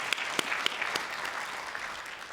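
An audience at a commission's inaugural meeting applauds people on stage, a fairly quiet, even patter of clapping with a few sharper nearby claps early on that gradually thins out.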